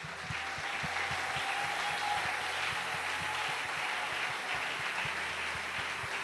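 A church congregation claps together in a dense, steady wave of applause during a French-language worship service, loud and continuous from start to finish with no talking.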